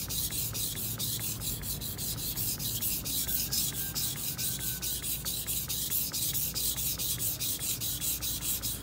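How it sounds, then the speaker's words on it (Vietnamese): A knife blade sharpened on a whetstone, making steady rhythmic scraping strokes back and forth, close and loud throughout. "rồi nguyên cái lưỡi dao thì mài chút xíu nữa thôi"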